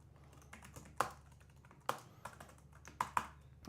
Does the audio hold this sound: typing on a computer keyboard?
yes